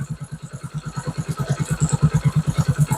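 A car engine runs slowly and unevenly with a sensor unplugged, giving a steady, close, pulsing chug with a clattering edge and no talk over it.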